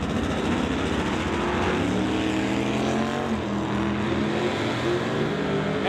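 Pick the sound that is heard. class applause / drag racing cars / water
drag racing cars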